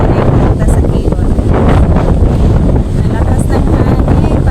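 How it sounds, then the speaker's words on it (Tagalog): Strong wind buffets the microphone at a seaside viewpoint in Boracay, a steady loud roar with no break, the gusts masking any other sound. "Nalakas ng hangin"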